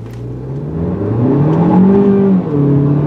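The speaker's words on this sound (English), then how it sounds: "When it comes to 0 to 60 acceleration, there are no complaints here." A 2017 Kia Soul Turbo with a turbocharged engine accelerates hard, engine tone rising steadily with one gear change, loud and close from inside the car, no talk.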